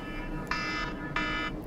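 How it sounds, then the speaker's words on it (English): A kitchen-style timer alarm goes off in a darkroom beside photo enlargers, giving two short, bright electronic beeping bursts at close range over a steady background hum. "My timer says timer up."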